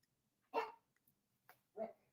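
Dog barking at a distance, three separate barks with pauses between, the first and last fuller and the middle one shorter, set against a quiet background.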